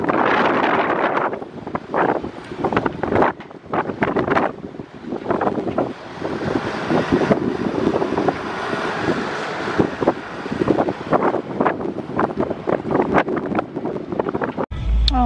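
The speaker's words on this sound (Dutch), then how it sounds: "Ik denk niet dat jullie me horen met de wind." Strong wind buffets the microphone in heavy gusts, with surf rumbling underneath and a voice speaking faintly through the roar.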